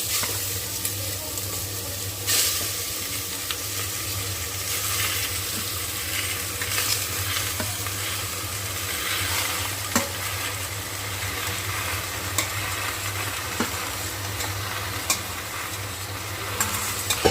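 Chicken pieces sizzle and are stirred into a coconut-oil masala for a Kerala-style gravy chicken, a steady close frying hiss punctuated by the scrape of a spoon against the pan.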